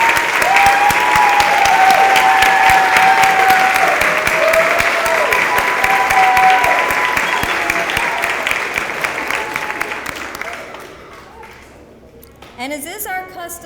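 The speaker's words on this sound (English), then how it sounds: "let's all please give them a round of applause for tonight's ceremony" Loud, sustained audience applause at a workforce programs graduation ceremony, hands clapping steadily with some cheering, then tapering off into quiet room noise before a voice starts to speak near the end.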